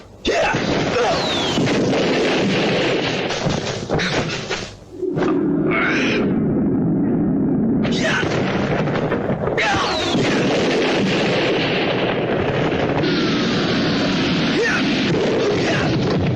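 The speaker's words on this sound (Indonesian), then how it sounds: "Bunyi ledakan ajian cadas ngampar tadi terdengar sampai ke pinggiran bukit" Loud explosive blasts and booms from a magic spell (the Cadas Ngampar ajian) in a Sundanese audio drama, with sustained roaring bursts across most of the clip, one brief dip near five seconds, and no speech.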